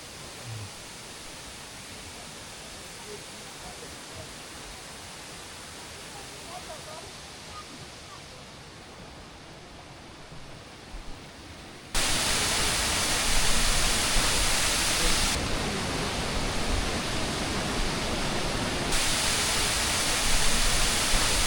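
Roar of a waterfall in Plitvice Lakes National Park, a steady broadband rush that is moderate at first and then jumps sharply louder and closer, continuing as a dense, even wash.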